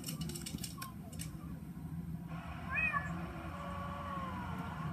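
A cat meows once, a short rising call rising over steady background murmur and a low hum, fairly close but not loud.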